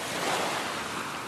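Ocean waves wash and surge continuously in a Japanese drama CD sea scene, a steady broadband rush with some wind noise, fairly loud and close, with no voices.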